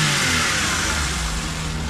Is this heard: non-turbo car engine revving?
yes